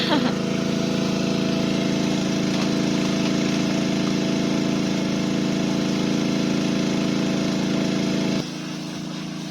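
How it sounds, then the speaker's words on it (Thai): An engine-driven water pump draws pool water for washing a car, running as a loud, steady close drone with a continuous hum that drops to a quieter tone near the end. "นี่ค่ะตัวช่วยของเรา เครื่องสูบน้ำ"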